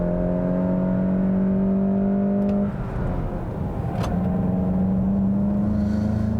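A Volkswagen Mark 7 GTI drives hard on a track, its engine holding a steady high drone, then briefly easing off before climbing again, close and loud from inside the car.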